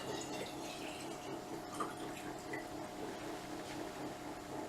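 Water pours steadily into a jar filled nearly to the top, a continuous soft, faint rush of liquid with no voices.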